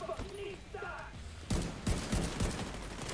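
Rapid bursts of gunfire in The Division 2 crack out in the second half after quieter mechanical clicks, several sharp shots close together, loud and up front.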